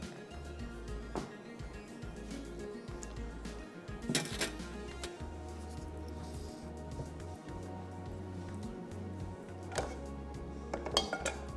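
Potato chapli kababs served onto a plate, with scattered metallic clinks and taps of a utensil against dishware over a low, humming kitchen background.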